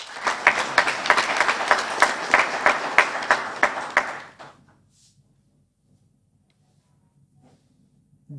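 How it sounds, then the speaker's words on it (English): Audience applause at the opening of a university academic year on the NUST Eenhana campus, brisk rhythmic clapping for about four seconds before it stops abruptly into near silence. "let's do that by clapping hands"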